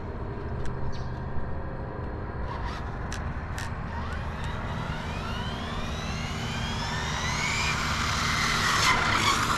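An electric R/C truck capable of 80 mph whining at speed, its high-pitched motor rising and falling as it races past on laps, with occasional sharp ticks and no talk.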